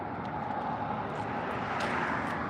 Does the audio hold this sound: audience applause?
no